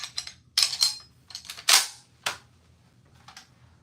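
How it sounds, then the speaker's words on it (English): An M1 Garand rifle's ping as a sound effect: a few sharp, close metallic snaps and clicks in quick bursts, each ringing briefly before fading, with no talk. "anytime we get donations, we do an M1 Garand ping as a thank you"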